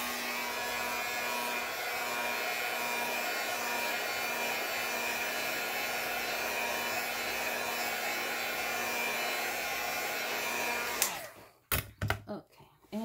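Hair dryer blowing steadily on chalk paint for a faux stone concrete finish, a loud continuous whirring roar that cuts off near the end, followed by a few handling knocks.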